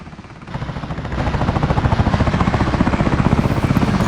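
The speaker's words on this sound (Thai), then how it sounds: "จอดเฮลิคอปเตอร์น่าจะยากหน่อยครับ" An army helicopter in a video game drones steadily with a fast, even rotor chop that builds in the first second and then holds loud and close throughout.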